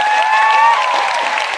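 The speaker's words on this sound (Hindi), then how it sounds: "एक बार अब तक की सबसे जोरदार ताली ऊपर वाले के लिए होनी चाहिए" An auditorium audience in a hall at a motivational speech event claps steadily for about a second and a half, a dense, even wash of applause with faint high whistles or voices over it.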